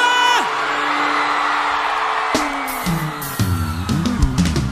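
A forró concert crowd whoops and cheers loudly over live band music, with high, rising shouts and yells swelling above sustained instrumental tones.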